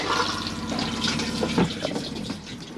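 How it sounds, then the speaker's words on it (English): Cassette toilet flushing inside a Chausson Flash 634 motorhome, a close, steady rush of running water lasting a few seconds with a brief gurgle partway through. "Use the toilet in this position and then you would flush after use."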